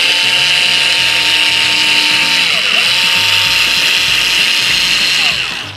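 A Bosch electric cutter whines steadily as it makes a straight cut through a felt-like fabric blend, a loud, continuous motor buzz with slight pitch dips partway through, no voices.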